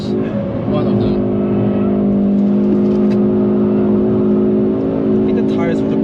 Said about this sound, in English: We're a bit in the rev limiter, sorry.